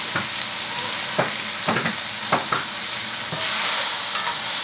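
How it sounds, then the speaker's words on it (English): Chicken pieces frying in a hot pan while being stirred: a steady loud sizzle broken by several sharp scraping knocks of a utensil against the pan. "the chicken kind of stuck to the pan at first. Just wait until it releases, and then it's ready to be stirred."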